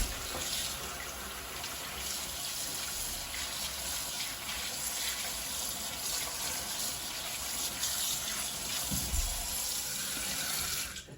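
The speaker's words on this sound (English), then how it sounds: "you're just going to stick the water on and rinse it from the inside out" Tap water runs steadily into a sink while a gutted pheasant is rinsed from the inside out, a continuous close splashing flow with slight shifts as the bird is moved under it.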